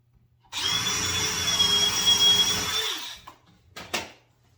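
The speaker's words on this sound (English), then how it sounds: "we're going to pre-drill a hole with a countersink" A drill with a countersink bit whirs for about three seconds, close and steady, pre-drilling a pilot hole, then winds down, followed by a couple of short clicks.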